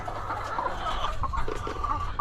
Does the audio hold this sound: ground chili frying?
no